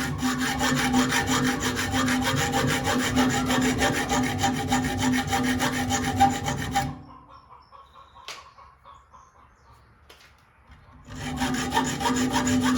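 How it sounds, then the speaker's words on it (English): A tool rasps rapidly against a bolt head on a Kawasaki ZX6R while cutting a slot, a loud continuous grinding buzz that stops for a few seconds, then resumes. "I'm gonna put a slot in there so that it's easier for me to take off next time."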